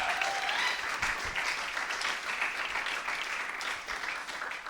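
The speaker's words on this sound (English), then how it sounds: "One more round of applause for the band here." Audience at a university senior music recital applauding the band, a sustained round of clapping that tapers slightly toward the end.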